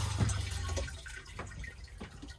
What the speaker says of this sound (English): flush by pressing the flush water button